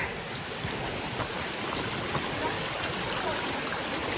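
A flowing mountain stream rushes steadily at close range, a constant broadband wash of water with no breaks and no voices.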